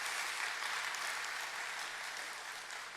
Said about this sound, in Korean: 우리 다시 한번 크게 박수로 우리 아이들 한번 격려하도록 하겠습니다